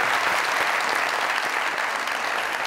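Studio audience applause on a Pakistani comedy talk show, a steady dense wash of clapping that holds at full strength throughout without pause or voices.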